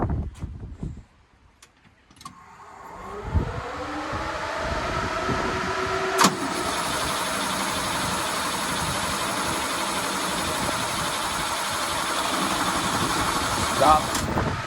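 A 1986 Chevy square body truck engine cranks over, catches and settles into a steady rough idle, close and continuous, with a few clicks before it starts.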